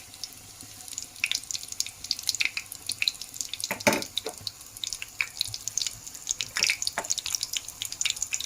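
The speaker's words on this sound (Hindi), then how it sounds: "अब इसमें मैं पकोड़े फ्राई करूँगी।" Pakoras fry in a kadai, with a steady close sizzle and crackle and scattered sharper pops and spatters throughout, and no talking.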